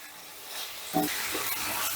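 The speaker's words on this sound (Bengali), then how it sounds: "এবারে এই আলুটা দিয়েও মশলার সঙ্গে ভালো করে কষিয়ে নেব" Fried potatoes being sautéed with spices in a pan for aloo paneer makhani, a soft, low sizzle with a couple of quiet stirring scrapes, fairly faint and without talk.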